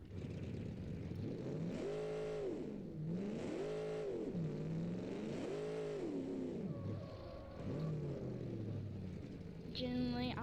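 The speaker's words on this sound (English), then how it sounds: "It's a monster truck" A monster truck engine revs repeatedly in a video game, rising and falling in pitch in steady surges, loud and close throughout, ending with a brief higher-pitched mechanical sound.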